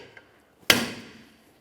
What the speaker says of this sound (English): we'll continue on with a hammer and punch, driving that through as far as possible